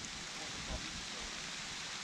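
Steady rain falls in a forest in the Taganay national park in the Southern Urals, giving a soft, even hiss that stays constant throughout, with no talking.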